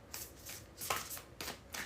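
Tarot cards being shuffled by hand, a series of soft papery riffling bursts in an irregular rhythm, close and fairly quiet with no talking.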